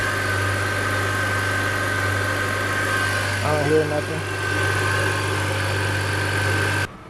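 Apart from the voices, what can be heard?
BMW E39 engine idling smoothly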